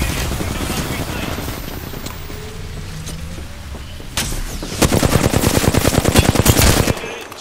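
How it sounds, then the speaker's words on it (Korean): Rapid automatic gunfire in Apex Legends, a fast loud burst of closely spaced shots in the latter half after quieter game ambience and scattered sounds, with speech mixed in. "적이 쏜다."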